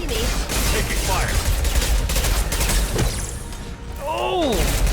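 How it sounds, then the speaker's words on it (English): Gunfire in a Mass Effect 2 firefight: rapid bursts of shots and mechanical weapon clatter, loud and dense, with sci-fi whooshing effects sweeping through toward the end. "Taking fire."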